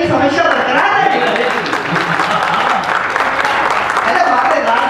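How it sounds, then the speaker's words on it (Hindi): Applause from an audience at a comic political speech in Hindi, a dense, steady wash of many hands clapping throughout, loud and close, with voices mixed in beneath. "तो जब तक ये तालियां नहीं बजेगी समस्या बरकरार रहेगी।"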